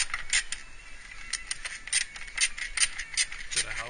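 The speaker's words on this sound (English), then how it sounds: "I'm trying to get this in first with a little ratchet and 10 millimeter bolt" Small hand ratchet clicking in short bursts while tightening a 10 mm bolt during radiator and fan installation in a 1998 car engine bay, quick repeated clicks close to the mic at low level.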